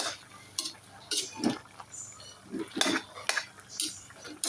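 Vegetables and beans tipped into a pan and stirred for pansit, with utensils scraping and clinking against the metal in irregular bursts, close and moderately loud.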